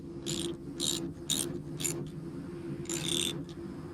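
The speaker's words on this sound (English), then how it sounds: "Take out the slack and retighten the bolt." A split bolt connector being retightened on braided fence line, producing a series of close, bright metallic ratcheting clicks in short bursts over a low steady hum.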